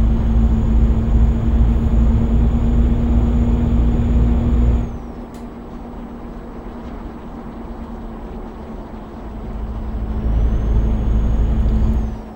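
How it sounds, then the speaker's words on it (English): A MAN TGA truck engine in Euro Truck Simulator 2 rumbles with a steady low drone that suddenly drops to a quieter idle, then swells back up as revs climb again, with no voices. "a lot of people seem to enjoy the sound of this truck. It's just a MAN TGA"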